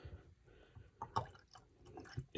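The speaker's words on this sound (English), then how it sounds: "you're going to pour a small cup of" Antifreeze poured from a small cup into a drain at a lake house being shut down, making soft, faint splashing and dripping with a few brief louder gurgles, heard alone.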